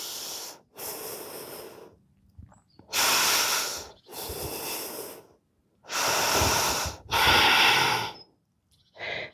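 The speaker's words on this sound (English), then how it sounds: "Breathing." Deep, audible breaths come in slow cycles of long inhales and exhales while holding a warrior 3 yoga pose, close and clear with short pauses between.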